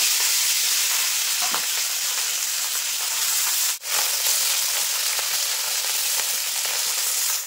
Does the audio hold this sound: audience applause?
no